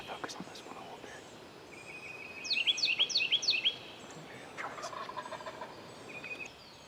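A wild turkey gobbler in Tennessee lets out a rapid rattling gobble at moderate distance, followed by softer clucking calls, with quiet whispering nearby.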